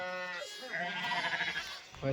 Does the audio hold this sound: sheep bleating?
yes